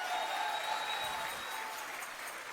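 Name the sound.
congregation applauding in church service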